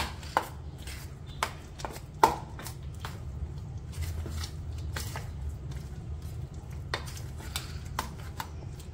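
Crushed paneer being worked by hand into a moong batter, making soft, wet squelches and irregular light taps close by at low volume, with no voices.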